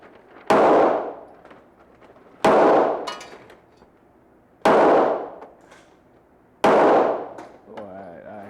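Four loud gunshots crack at a shooting range, spaced roughly two seconds apart, each with a sharp attack and a decaying echo. A faint voice is heard between shots.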